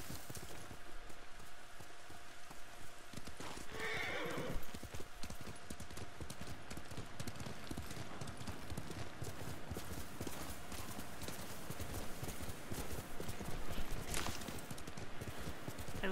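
Horse hooves clip-clop steadily at a walking pace in the Ghost of Tsushima video game, a continuous rhythmic patter throughout with a brief whinny-like burst partway through, no talk over it.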